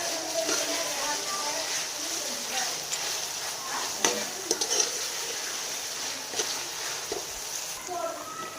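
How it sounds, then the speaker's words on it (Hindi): Carrots frying in a pan for Chinese rice give a soft, steady sizzle with occasional scrapes of a stirring spoon, close but fairly quiet. "इसको हम 2 मिनट तक फ्राई कर लेते हैं"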